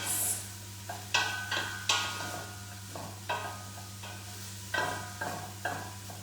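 Softening onions get mixed in a pan for a simple chilli, giving several separate scraping, clacking strokes spaced a second or so apart over a low, steady sizzle and hum.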